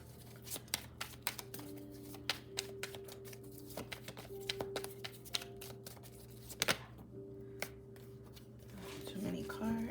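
Tarot cards are shuffled and drawn by hand in a series of quick, crisp snaps and flicks, with a faint continuous hum underneath and a soft rustle near the end.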